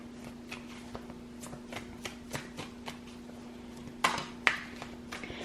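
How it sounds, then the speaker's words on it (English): A deck of tarot cards is shuffled by hand, with soft irregular riffles and taps and a couple of sharper snaps near the end, fairly quiet and close, with no talking. "when I was shuffling the cards"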